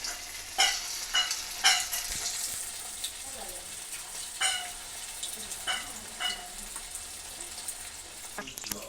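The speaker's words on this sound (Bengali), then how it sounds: "এবার আমি একটু একটু করে চিকেন নিয়ে ওটাকে ডিপ ফ্রাই করে নেব।" Chicken pieces deep-fry in hot white oil in a kadai, giving a soft, continuous sizzle broken by sharp scraping stirs and clinks every second or so.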